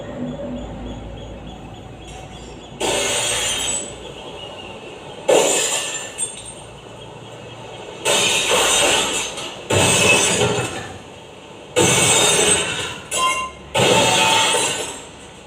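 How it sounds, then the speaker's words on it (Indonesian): Plates crashing and shattering during a staged school monologue performance, several loud bursts of breaking crockery at irregular intervals, each a sharp crash with ringing shards, separated by quieter pauses. "Piringnya tinggal sedikit, sekarang sudah pecah semua."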